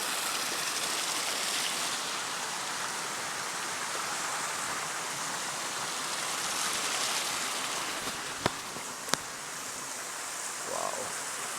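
Water cascades down rocks into a basin beside a waterfall, giving a steady, close, broadband rush with no talk, broken only by two sharp clicks near the end.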